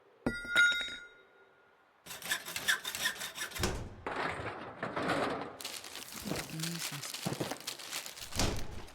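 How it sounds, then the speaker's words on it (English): A hacksaw cutting in the video game The Long Dark, heard as a steady run of rasping back-and-forth strokes after a brief metallic clatter and a short pause, with a voice talking over parts of it. "Alright, we're gonna start using this other hacksaw as well."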